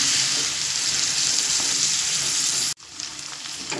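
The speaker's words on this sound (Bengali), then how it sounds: "ভেজে রাখা পেঁপে আর আলু দিয়ে দিলাম, দিয়ে আবারও 2 থেকে 3 মিনিট লো টু মিডিয়াম ফ্লেমে কষিয়ে নেব।" Papaya and potato fry in spices over a low-to-medium flame, a steady close hissing sizzle that cuts off abruptly near the end and then resumes more quietly with light stirring.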